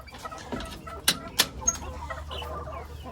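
Chickens and small chicks cluck and peep while pecking at purslane, giving a few short, sharp calls over soft background chatter of the flock.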